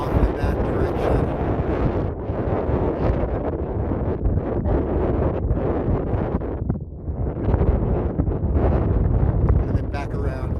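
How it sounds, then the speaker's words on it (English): Strong wind buffeting a microphone during a mountain bike descent through Titus Canyon in Death Valley, a loud continuous roar and rumble that dips briefly near the middle before surging back. "Pretty windy today."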